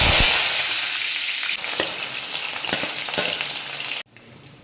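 Mustard seeds sizzling and popping in hot oil for a crab curry gravy, a loud close crackling hiss with sharp pops scattered through it, suddenly dropping quieter near the end.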